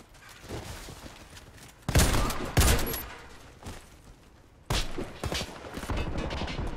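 Video game gunfire: bursts of rapid shotgun fire crack out in a few loud volleys, separated by quieter stretches of low rumble and mechanical noise.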